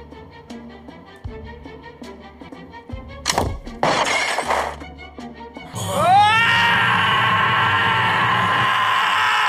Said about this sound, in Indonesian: tembakan itu menyebabkan botol itu pecah